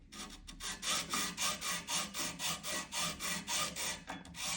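A brass bar for a Fodera Victor Wooten Monarch bass guitar nut is rubbed back and forth on sandpaper, close and even, in about a dozen regular rasping strokes with no talk.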